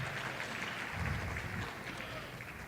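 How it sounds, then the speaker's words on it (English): Audience applauding performers at a high school fine arts night showcase and awards, a steady wash of many hands clapping, moderately distant and even in level for the whole stretch. "we can go ahead and applaud for them when they get everybody up here"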